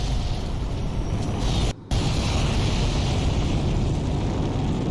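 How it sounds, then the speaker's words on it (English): A nuclear bomb detonating in a video game, a loud sustained rumbling roar broken by a brief dip before the blast noise resumes and continues steadily. "Where's that first nuke detonate again?"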